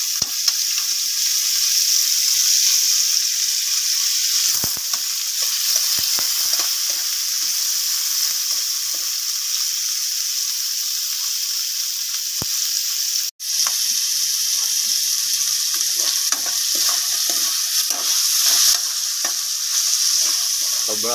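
Meat browning in a hot pan, stirred as it fries: a steady close sizzle across the whole stretch, broken by scraping stirs, one brief sharp clatter near the middle and irregular knocks toward the end.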